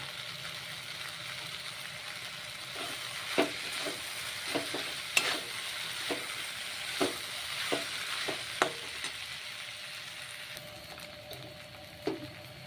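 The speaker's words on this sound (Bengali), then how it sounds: "নুডলসটা বেশি ভাজতে লাগবে না একটুখানি ভাজলেই হবে" Noodles frying in a pan for vegetable noodle soup, a soft continuous sizzle broken by sharp scrapes and taps as they are stirred.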